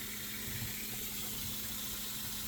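Water rushes steadily as an RV hot water heater is flushed, a constant broadband hiss with a low hum beneath, close and unbroken.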